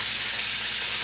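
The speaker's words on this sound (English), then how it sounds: "And I know you hear that sizzling. I got the beef on in the pan right back here." Ground beef sizzles in a pan as a steady, close, bright hiss, continuous with no break.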